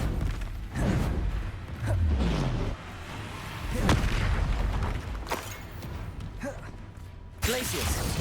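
Bombarda spell explosions in Hogwarts Legacy on PS5 go off as several heavy booms and blasts, loud and close, with a voice talking between and over them.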